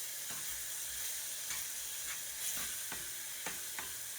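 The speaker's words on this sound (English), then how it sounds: "I am just sauteing this because I like for my tomato paste to kind of get cooked in there" Tomato paste sautés in a pan for Puerto Rican rice and beans, giving a soft, steady sizzle broken by a few quiet stirring scrapes every half second or so, with no one speaking.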